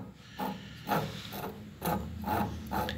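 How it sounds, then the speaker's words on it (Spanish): A key duplicating machine's cutter scrapes against a key blank in repeated rasping strokes, about five evenly spaced passes with a mechanical hum between them, close up and with no voices. "la fresa tiene que rascar la llave que está colocada acá"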